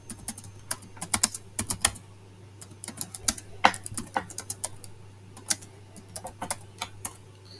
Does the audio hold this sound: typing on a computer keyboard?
yes